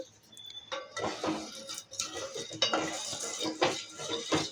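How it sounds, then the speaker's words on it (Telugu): A pot for jaggery syrup being set on a stove: a close run of metallic clanks, scrapes and clinks of utensils against metal, uneven and fairly quiet. "స్టవ్ మీద ఇప్పుడే పాకం గిన్నె పెట్టాను"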